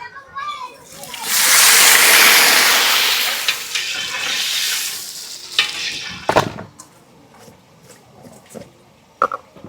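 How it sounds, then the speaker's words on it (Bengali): Eggplant slices hit hot oil in a pan at a brick kiln cookout, bursting into a loud spattering sizzle that slowly settles, followed by sharp scrapes and clanks of a utensil; a voice speaks faintly nearby. "এবার ভেজে নেব বেগুনটা।"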